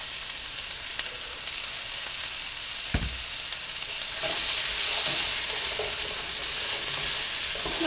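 Seasonings and beef tips for a crockpot recipe stirred together, a continuous sizzling, scraping stir that turns louder and denser halfway through, with a single sharp knock early on, no voices.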